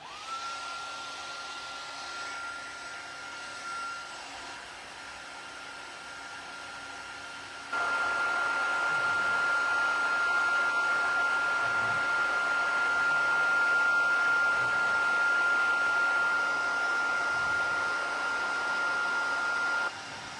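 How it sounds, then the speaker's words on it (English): A heat embossing gun blows hot air while stamping ink is dried in a craft session. It gives a steady whooshing fan roar that starts softer, then jumps louder about a third of the way in and holds, with no speech. "I'm gonna grab my heat embossing gun."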